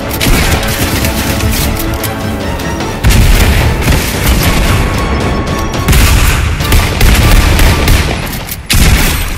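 Dense gunfire and heavy booms in the Fortnite video game, loud and continuous bursts of shots with explosive impacts throughout, close by, with no voices.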